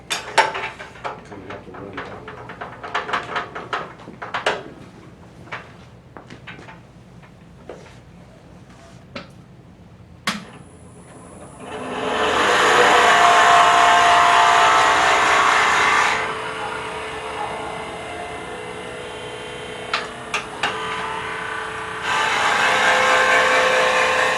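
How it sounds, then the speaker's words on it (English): Scattered taps and clicks give way to a loud, sustained power-drill whine as a 5/8 drill bit bores into a wooden angel ornament, pausing briefly before the drilling resumes. "we'll see if we can drill it"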